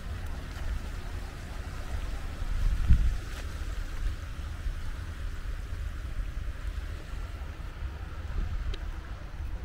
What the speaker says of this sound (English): It's an almost silent world, broken only by the lapping waves